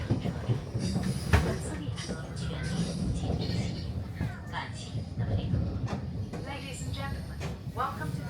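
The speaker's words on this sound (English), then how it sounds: "The train will complete the 45 kilometers between Qinghe and Badaling in 23 minutes." A train running from central Beijing toward Badaling at the Great Wall produces a steady rolling rumble with faint rail clatter, heard from inside the carriage while voices speak over it.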